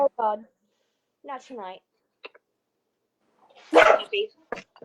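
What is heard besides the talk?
dog barking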